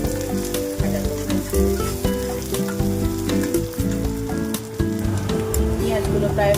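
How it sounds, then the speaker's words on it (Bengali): Onions fry in a pan for a fish curry with a steady, close crackling sizzle and occasional clinks and scrapes from stirring. "পেঁয়াজগুলো প্রায় ভাজা হয়ে এসেছে"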